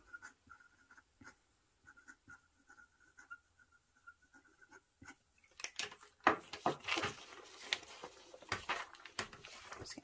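A fountain pen scratches across 5-star notebook paper in soft, intermittent strokes, then louder, busier scratching and rustling of the page takes over.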